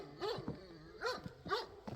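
A dog whimpers and gives short yipping barks, three rising whiny cries in quick succession, close and moderately loud with no talk.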